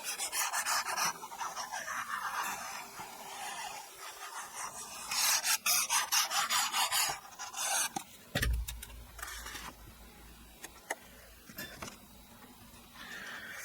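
Glued paper material is burnished down onto a handmade folio with repeated dry rasping rub strokes, close and fairly quiet, in irregular bursts with a few brief knocks.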